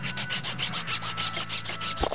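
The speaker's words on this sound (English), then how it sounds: "Just make sure you sand that nice and flat." Sandpaper rubbing a plastic Eastsheen 2x2x2 puzzle cube piece flat, in steady, evenly spaced rasping strokes close up, with no talking.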